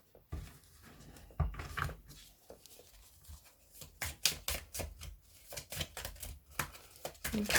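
Quick papery riffles and flutters of a tarot deck being shuffled, in bursts that grow busier toward the end, close and fairly quiet.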